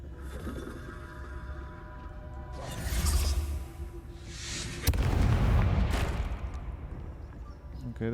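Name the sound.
explosion in Hogwarts Legacy video game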